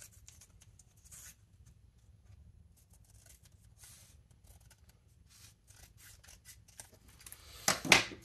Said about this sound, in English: Just use some scissors to kind of cut it down in width a little bit.